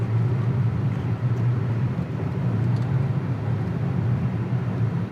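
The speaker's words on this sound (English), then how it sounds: "It sounds quite appetizing for a four-banger." Mazda CX-90 PHEV four-cylinder engine pulling hard through snow, a steady low droning hum with road rumble, continuous and fairly loud throughout, no voices.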